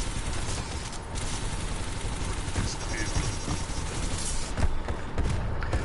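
Dense, rapid gunfire rattles through a Team Fortress 2 match, continuous crackling shots and bursts layered with thumps and game noise, loud and close throughout the scene.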